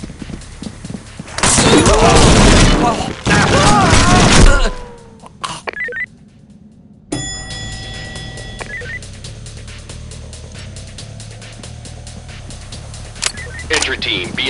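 Gunfire in the SWAT 4 game during a VIP escort mission: loud bursts of shots with echoing crackle in the opening seconds, then a quieter stretch with scattered mechanical beeps and background hum.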